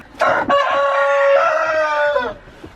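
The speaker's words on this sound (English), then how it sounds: "Now I'm sorry about the cockerel, but he's crowing to the ones next door and they're crowing back to him." A cockerel crows once, loud and close, in a full drawn-out call of about two seconds, with a faint cluck just before it.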